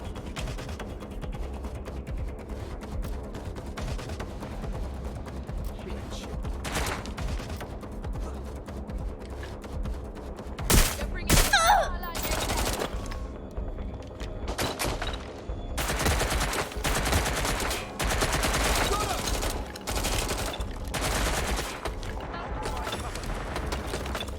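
Gunshots in the video game Watch Dogs Legion, scattered single cracks and short bursts that grow denser midway, over a steady low game background with faint voices.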